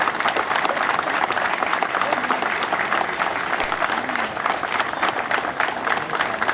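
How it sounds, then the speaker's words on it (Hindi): Sustained applause from a large crowd at an Independence Day ceremony at the Banaras Locomotive Works in Varanasi, honouring the medical team; dense, steady clapping throughout. "जी हाँ, जोरदार तालियां हमारी मेडिकल टीम के लिए"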